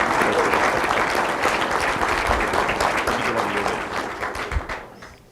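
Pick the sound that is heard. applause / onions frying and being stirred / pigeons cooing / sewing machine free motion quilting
applause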